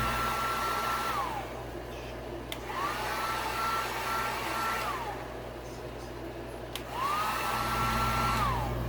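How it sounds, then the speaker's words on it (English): Heat gun blowing steadily on a motorcycle graphic kit, a continuous close whooshing roar that dips slightly when the tool is moved, with a faint tone sweeping up and down. "Even though I'm hitting it with a heat gun now"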